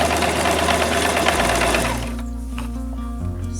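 A sewing machine stitching curtain fabric for gold and white backdrop curtains, a close, loud, steady mechanical whir that slows and settles into a lower hum near the end.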